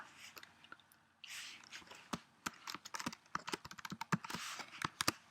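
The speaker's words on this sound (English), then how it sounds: "I'll type something" Someone types on a computer keyboard in a quiet room, with sparse clicks at first and then a fast, irregular burst of close, crisp keystrokes.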